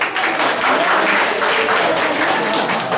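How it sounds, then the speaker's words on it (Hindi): Crowd clapping in welcome at a political gathering in Nagda, a dense continuous wash of applause held at even loudness throughout. "एक बार मोदी जी का भी ताली बजा के स्वागत करें।"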